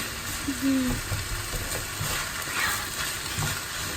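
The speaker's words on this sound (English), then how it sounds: "I'm going to cook this on high heat for a few seconds, just to get all the flavors in" Chicken fried rice frying on high heat in a pan, a steady soft sizzle with stirring scrapes, fairly quiet and close, with no talk over it.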